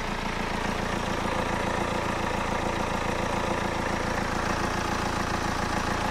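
A BMW car engine idles with a steady, even rumble and fine rapid pulsing, close and constant throughout with no talking.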